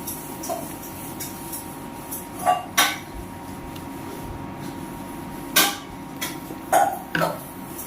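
Spoon knocks and scrapes in a pan as mint thuvaiyal is sautéed, scattered close clanks over a low steady background, with no talking.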